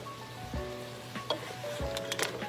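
Mussels frying in a pan with fish sauce over medium heat, a soft steady sizzle with a few scraping stirs and light clinks of a utensil against the pan, fairly quiet and close.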